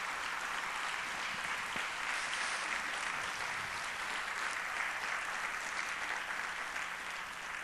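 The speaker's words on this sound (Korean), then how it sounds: "축복하면서 한번 박수하겠습니다" Church congregation clapping during a Wednesday service to bless a pastor, a dense, continuous roar of applause that fills the whole stretch evenly with no voices on top.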